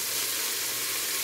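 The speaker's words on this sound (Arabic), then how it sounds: "So I will fry the onion until it gets the golden color." Onions frying in oil in a pan for shrimp kabsa, a soft, steady hiss of sizzling, close and uniform with no voices over it.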